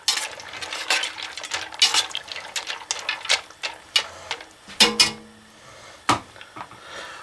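Medium pasta shells are stirred in a pot of water with oil, giving a run of irregular metallic clinks and scrapes of spoon against pot, close and sharp, with brief pauses between strokes.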